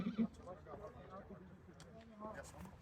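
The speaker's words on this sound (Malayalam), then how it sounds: "നമ്മൾ ഓരോ കുതിരകൾ വന്നുകൊണ്ടിരിക്കുകയാണ്" Horses arrive at the end of a horse safari in snowy mountains, their hooves clip-clopping faintly and irregularly under people talking nearby.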